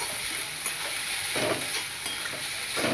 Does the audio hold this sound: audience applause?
no